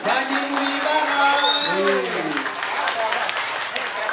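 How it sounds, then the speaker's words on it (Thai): An audience at a team event claps, a broad steady wash of applause under a voice speaking over a loudspeaker. "ขอเสียงปรบมือนะครับ"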